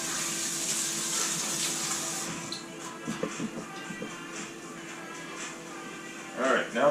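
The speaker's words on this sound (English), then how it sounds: "rinse the hands again here" Running tap water splashes steadily as hands are rinsed under it in a home kitchen, a continuous near hiss with brief sloshing bursts where the hands move through the stream.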